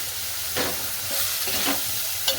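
A spoon stirs coriander powder and Kashmiri red chili powder into a fresh Bombay duck (bombil) curry base in a hot pan, making steady sizzling with several scraping strokes, close and fairly loud, with no talking.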